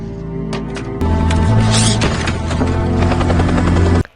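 A military helicopter in the zombie series All of Us Are Dead, its steady loud rotor thrum and engine whine running continuously before stopping abruptly near the end.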